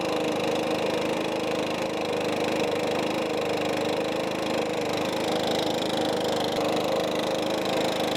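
A Stihl 4-Mix engine runs at a steady idle during carburetor adjustment, a dense continuous buzzing drone, loud and close with no breaks.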